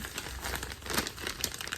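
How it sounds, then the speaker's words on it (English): Thick plastic zip-top bag being squeezed to push air out, giving a steady run of close, soft crinkling and rustling with a few sharper crackles, with no talk over it. "I'm going to squeeze air out of it"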